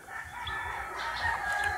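A gamefowl rooster at a game farm crows in a long, sustained, strained call at moderate loudness, with fainter clucks and distant crowing from other birds behind it and a low steady background rumble; no one speaks.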